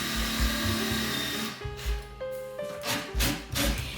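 Power drill with an 8mm bit boring holes into old reclaimed wood during a factory-to-room renovation, a close, loud motor whine shifting in pitch as the bit bites and bogs, with rhythmic grinding pulses.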